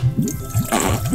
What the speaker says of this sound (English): He's squirting Zuma, mermaid.